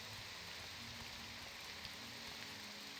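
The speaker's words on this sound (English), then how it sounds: "And even the rain sounds good." Rain in the video game The Elder Scrolls III: Morrowind, a steady, soft hiss of falling rain, continuous and even throughout with no voices.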